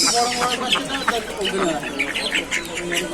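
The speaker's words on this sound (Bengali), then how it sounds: "কত হাঁস" Ducks and chickens crowd a long-running weekly market at Nilganj, near Barrackpore and Barasat, their clucks and quacks dense and continuous, close to the listener and mixed with people talking.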